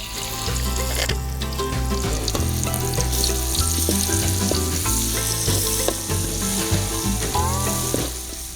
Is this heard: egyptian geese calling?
no